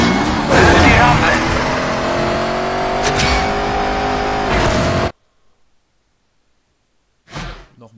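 A video-game car from Stuntman Ignition drifts left past crates, engine revving loud and continuous with tire noise, then cutting off abruptly into silence before a brief burst of sound returns.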